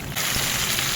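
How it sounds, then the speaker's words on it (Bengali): Water poured into a pan of curry as it cooks, a sudden loud hiss and rush of sizzling that keeps going right after the pour begins. "এবার আমি জল দেব"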